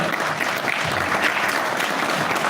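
A live event audience applauds a rapper taking his seat, a dense steady clatter of many hands clapping at close range for the whole stretch with no talk over it.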